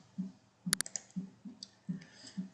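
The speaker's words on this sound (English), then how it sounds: "Clicking OK," A single mouse click confirming OK in weaving design software, a sharp tick standing out against soft low background noise.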